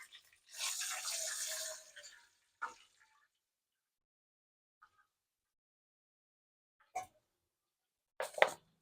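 Water poured from a glass into a cooking pot of whole spices frying for a dal chana and khara masala rice dish: a brief splashing pour, then a few quiet clinks and knocks in a quiet kitchen.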